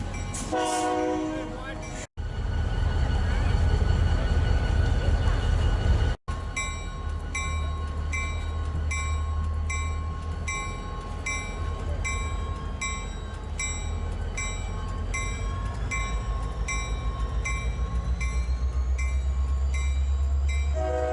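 High Bridge train with two locomotives at Port Clinton, a steady loud rumble of engines and rolling cars with a brief horn-like tone early, continuous for the whole stretch.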